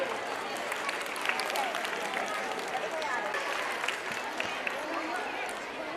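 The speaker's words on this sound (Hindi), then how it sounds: "तमाम तलबा के इस्तकबाल के लिए जोरदार तालियां बजाइए" Audience applause at a school annual function: a dense, steady wash of many hands clapping and crowd noise, fairly distant and moderately quiet, continuing evenly throughout.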